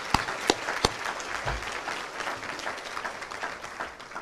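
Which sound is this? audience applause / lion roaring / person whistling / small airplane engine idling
audience applause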